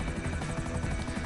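Helicopter in the GTA video game: a steady, dense rotor and engine drone that runs continuously and fairly loud, with no voices.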